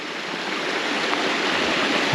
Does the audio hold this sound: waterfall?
yes